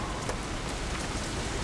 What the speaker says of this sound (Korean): 비와요